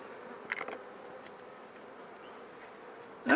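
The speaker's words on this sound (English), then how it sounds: "Bees are being really calm." A low, steady hum of honeybees fills a beehive inspection, faint and continuous, with a couple of brief closer buzzes near the start and a louder burst at the end.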